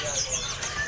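A Sumatran ashy drongo calls at the Pramuka bird market: a brief burst of thin, high whistled chirps over the low murmur of a busy market.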